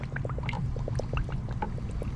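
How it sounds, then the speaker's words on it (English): An old beer can dug up at a campsite is held fully under water and fills, giving a steady stream of small glugs, bubbles and trickling for a couple of seconds. "So the first thing we're gonna do is just completely submerge the bottle into water"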